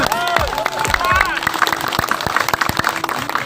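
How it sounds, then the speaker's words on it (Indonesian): Audience applause at a crowded community meetup in Bekasi, with voices heard early on, then a run of scattered, sharp claps over a busy room background. "Tepuk tangan buat semuanya."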